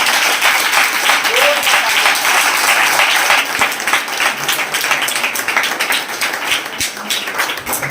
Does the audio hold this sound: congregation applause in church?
yes